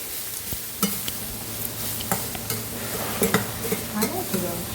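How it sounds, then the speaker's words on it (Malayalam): Finely chopped vegetables for a Kerala thoran are stirred in a hot pan, a close, steady sizzle broken by repeated scraping strokes of the spoon. "ചെറുതായിട്ട് അരിഞ്ഞു വെച്ചിരിക്കുന്ന കണ്ടോ കുരുകുരുന്നനെ എല്ലാം ഇട്ടു നന്നായിട്ട് ഇളക്കാം"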